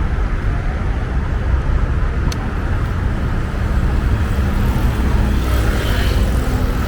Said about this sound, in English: as you can hear as ambulance and all the things and the cars on the right side